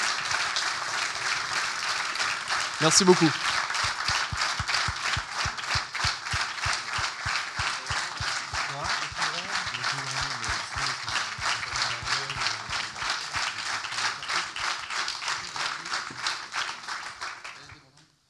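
Sustained crowd applause fills a conference hall at the close of a Forum PHP keynote, a long, even roar of clapping with a faint pulsing texture that fades out at the end, and a voice briefly speaks near the start.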